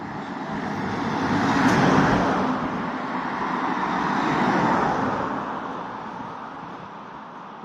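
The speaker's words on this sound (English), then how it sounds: "There's a big truck coming" A big truck passes on a road at 3 in the morning, a loud, broad rumble and tyre roar that swells, eases and swells again as it goes by, with no talk.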